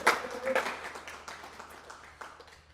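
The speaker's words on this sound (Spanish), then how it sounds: "Dale ese aplauso fuerte a Él." A church congregation applauds, a burst of clapping that starts loud and tapers off over a few seconds, faint and reverberant.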